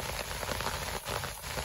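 Steady winter rainfall on a surface, a dense continuous hiss of drops at moderate, even loudness with no voices or other sounds.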